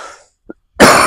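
A man coughs: a small catch, a short pause, then a loud, harsh burst of coughing that fills the end of the clip. It is close and heard alone.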